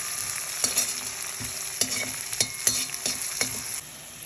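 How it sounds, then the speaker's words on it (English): Onions and jalapenos frying in a pan for poha, a steady close sizzle broken by repeated stirring scrapes and utensil clicks at irregular intervals, easing off near the end. "stir again."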